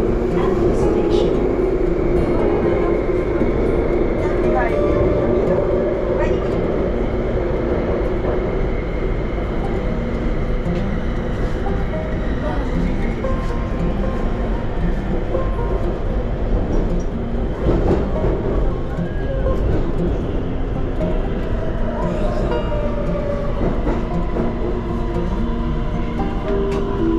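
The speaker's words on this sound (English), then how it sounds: "Please find the gap between train and platform." A train at Bang Sue rail station in Bangkok gives a loud, steady rumble that fills the whole stretch, with voices speaking over it.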